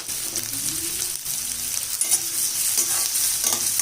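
Onions, garlic and green chilli sauté in a pan for green tomato kootu, a soft continuous sizzle with a spoon stirring and scraping in short strokes.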